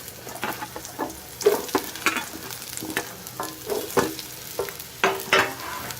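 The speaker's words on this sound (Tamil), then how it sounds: "ஒரு 4 காஞ்ச மிளகாய் அதை எண்ணெயில் போட்டு நல்லா ஃப்ரை பண்ணிக்கோங்க" Dried red chillies and chopped ginger fry in sesame oil for an Andhra-style allam pachadi, giving a soft steady sizzle broken by repeated scraping and stirring strokes at close range, with no talk.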